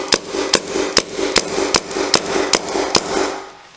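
Nine sharp, loud shots from a Viewloader VL Orion paintball marker fired with a rag over the gun, spaced evenly about every 0.4 seconds, with a faint hiss between them.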